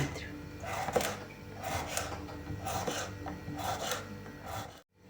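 A knife slices washed cucumbers into 5 mm thin slices on a board, a steady series of rasping, rubbing cuts, soft and close.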